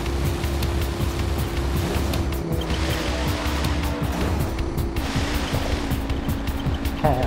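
Engine drone of a race vehicle in the Jak 3 video game, a steady continuous hum held at even loudness throughout, with brief skidding textures and no talking.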